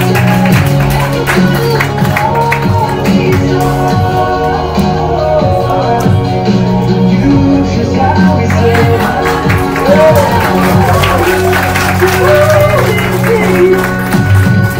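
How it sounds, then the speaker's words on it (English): Audience applause and cheering at the grand finale of a Bangalore hackathon, steady crowd noise mixed with loud music throughout, with voices shouting over it. "Huge round of applause, everyone."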